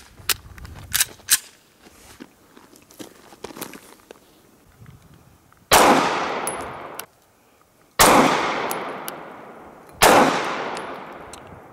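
Shots from an HK VP9 9mm pistol: a few light clicks and handling noises, then three loud, sharply cracking shots a couple of seconds apart, each trailing off into a long echo.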